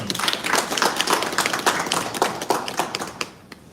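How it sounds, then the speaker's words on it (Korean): Hands clap together in a steady patter of applause for scholarship recipients at a Rotary Club scholarship ceremony and regular meeting, a small indoor crowd clapping for about three seconds before it thins out and fades. "다시 한번 오늘 장학금 받으신 장학생들에게 큰 박수 부탁드리겠습니다."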